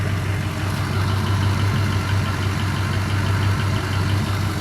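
A rebuilt LM7 5.3L LS V8 with an LS1 cam idles close by in a steady, loud, even rumble with a slight rhythmic lope.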